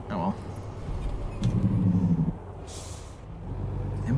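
Truck air brakes in American Truck Simulator release a brief, bright hiss over a steady low engine rumble, close and clear, with an earlier pulse of mechanical chatter.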